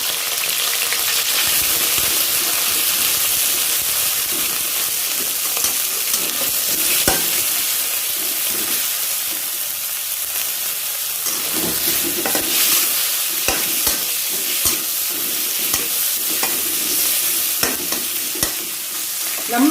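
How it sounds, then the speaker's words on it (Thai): Marinated pork stir-frying with garlic in a hot pan makes a loud, continuous sizzle close up, with frequent scraping and clattering strokes of stirring throughout and no talking. "เราก็มาผัดหมูมันก็หอมกระเทียมหน่อยนึงนะ แล้วก็ผัดให้สุกเลยนะคะ"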